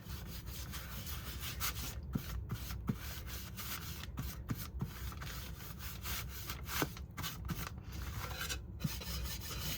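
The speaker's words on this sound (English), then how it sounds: "I'm going to take my dark wax and I'm going to wax the board" Dark wax being rubbed by hand onto a sanded wooden board, a steady close dry scuffing and rasping with small repeated strokes and occasional light taps, no talking.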